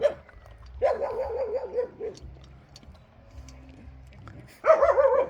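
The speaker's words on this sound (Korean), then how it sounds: "저도 저렇게 짖는 거 딱 싫어하거든요." Several dogs bark and yip in bursts at close range, loud outbursts separated by quieter stretches of whimpering and low rumble, on a dim evening at a home kennel with a mother dog and her grown daughters.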